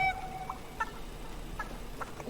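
A video game chicken clucks faintly in a few short, separate calls over a steady low background hum.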